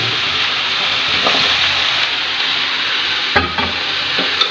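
Squash and shrimp stirred in a cooking pan, a loud constant sizzle with a few scraping utensil strokes toward the end.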